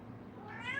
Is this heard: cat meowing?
yes